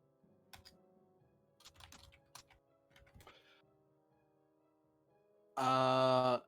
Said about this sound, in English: Typing noises intensify.